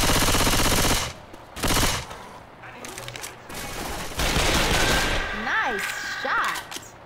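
Video game gunfire rattles in loud automatic bursts, several close volleys separated by short pauses, with distorted radio-like tones and effects between them.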